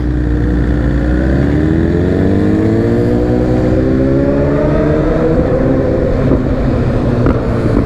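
A motorcycle passes close by with a loud, continuous engine drone whose pitch climbs steadily as it goes past, and no other sounds are heard over it.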